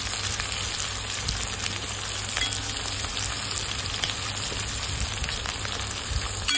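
Onions frying in a pan until reddish, a steady close sizzle with soft crackle and occasional stirring, no voices.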